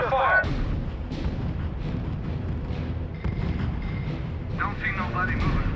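Gunfire and artillery in the R.U.S.E. strategy video game, a steady wash of distant rumbling barrages and shot bursts with occasional sharp cracks, running continuously under game radio voices.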